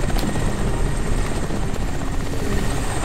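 A helicopter in the video game Crysis thunders close and loud, a dense continuous rotor roar that holds steady throughout, with no speech over it.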